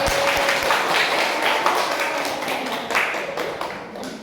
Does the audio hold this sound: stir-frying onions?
no